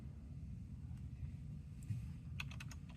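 A few quick keystrokes tap on a computer keyboard as a password is typed, faint and close, over a low steady hum.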